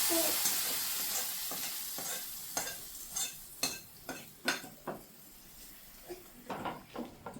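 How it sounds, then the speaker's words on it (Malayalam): A spoon stirs pulissery, a yogurt curry, in a pan, making a soft sizzle with a series of scraping strokes against the metal that grow sharper toward the end. "ഒന്ന് ഇളക്കി കൊടുക്കുക"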